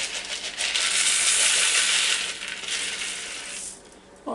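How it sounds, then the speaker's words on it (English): Dried black beans pour into a strainer in a steady, loud rattling hiss lasting about three and a half seconds, then trail off, with no talking. "I'm going to put them in a strainer right here."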